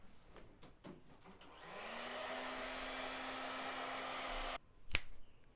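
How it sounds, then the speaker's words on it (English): After a few light taps and clicks, a hair dryer switches on to unfog a camera lens, whirring as a steady close blowing roar with a rising motor whine, then cuts off abruptly, followed by a sharp click. "turning on the hairdryer so I can unfog the camera"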